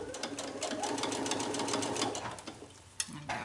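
A sewing machine runs steadily, stitching fabric to form a pocket for boning on a sewing project, its rapid needle chatter close and even for about two and a half seconds before stopping with a couple of soft clicks.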